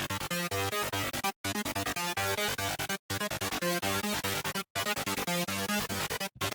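A bright, wide Serum 2 synthesizer Goa trance sound plays a repeating chord pattern, chopped by brief silent gaps, with a thick chorus-like shimmer from hyper and dimension effects spreading the sound.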